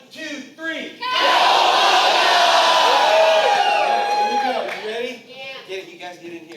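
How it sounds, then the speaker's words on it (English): A theater audience at a screening Q&A for Teenage Mutant Ninja Turtles (1990) shouts in unison and then cheers, a loud, sustained crowd roar that swells after a second and fades into scattered whoops and voices. "you guys all go Keno and then cheer"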